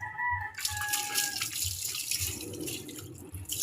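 Water splashes and runs steadily as a pet rooster named Barako is bathed, a continuous close-up pouring and spattering sound, with a thin tonal squeal at the very start.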